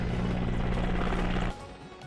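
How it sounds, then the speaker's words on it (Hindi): A helicopter flying over a hospital in Ahmedabad, showering flowers as a salute to medical staff: loud, close, continuous rotor thumping and engine drone that drops sharply in level about two thirds through. "अहमदाबाद में भी हॉस्पिटल पर हेलीकॉप्टर से बरसाए गए फूल"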